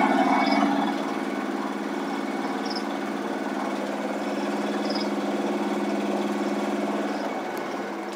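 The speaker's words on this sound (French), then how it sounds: "Faire démarrer le moteur." Sailboat's auxiliary engine running steadily near the cockpit, a constant low droning hum with a faint rise at the start, alone without voices.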